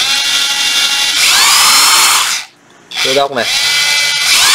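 A Japanese cordless screwdriver runs in its slow speed mode, a loud steady motor whine that stops briefly, then restarts with a rising spin-up before settling again; someone speaks briefly over it.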